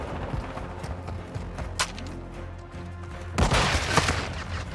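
Gunfire in the video game Call of Duty Modern Warfare II, with scattered shots and low rumbling under a steady game soundscape, then a louder burst of dense firing near the end.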